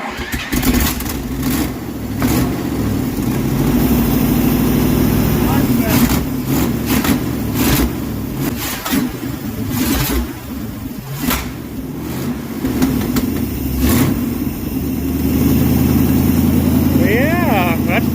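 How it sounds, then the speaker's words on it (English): A 1968 Dodge W200 Power Wagon engine idles after being revived, a loud, steady low rumble with slight surges in speed running the whole time while people talk over it. "It idles now."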